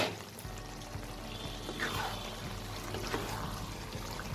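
Water is poured into a cooking pot of mixed vegetables for Bengali labra, giving a soft, steady close splash and trickle that runs throughout without talk.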